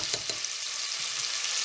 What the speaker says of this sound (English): turn the heat up to a medium heat and give everything a good stir